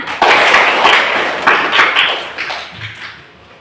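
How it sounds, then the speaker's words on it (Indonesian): A class of pupils clapping their hands on cue, a dense burst of many small hand claps that starts sharply and then thins and fades over a few seconds. "Silahkan tepuk tangan."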